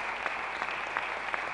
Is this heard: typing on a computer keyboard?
no